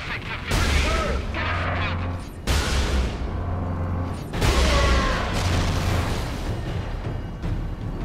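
Heavy booming lascannon blasts and bursts of gunfire in Warhammer 40K Space Marine, loud and repeated, with a few big impacts standing out over constant battle noise and a voice talking.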